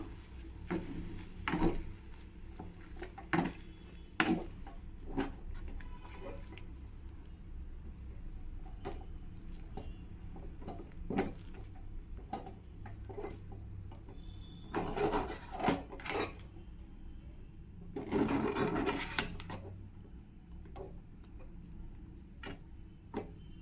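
Thick cooked ragi flour dough for mudde is stirred in a pot, giving faint, irregular scraping and rubbing knocks with a few louder bursts of scraping.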